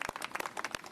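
Audience applause at a speech event, a short burst of dense clapping from a crowd, steady and moderately loud for about a second with no talk over it.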